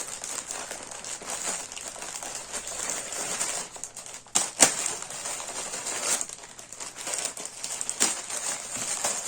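A large plastic parcel bag is crinkled and handled up close during a parcel unboxing, with continuous rustling and a few sharper crackling bursts, no talk.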